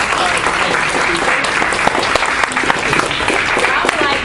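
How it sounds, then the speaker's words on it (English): Dense, steady applause from a large crowd at a debate, loud and continuous throughout without pause. "let's get one more round of applause"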